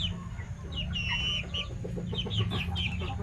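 Native chickens clucking in a flock at close range, with steady overlapping clucks and short calls over a low rumble of background noise.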